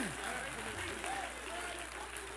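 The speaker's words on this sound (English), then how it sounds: "Now you clap your hands for Jesus and you give God praise for that good preaching." A church congregation applauds during a sermon, with a sustained, moderately distant clatter of clapping hands and faint voices mixed in.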